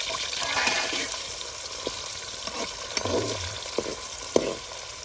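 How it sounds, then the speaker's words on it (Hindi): Onions frying in oil in a pan for chicken karahi, a steady hiss with a few stirring scrapes and clinks, close and continuous, with no talking. "अभी प्याज शामिल करते हैं इसके अंदर"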